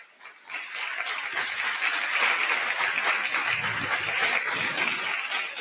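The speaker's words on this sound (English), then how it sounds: "Come on, clap our hands for him." Audience applauding at a college chapel service during International Week: a thick, steady wash of many hands clapping that swells quickly and holds at full strength.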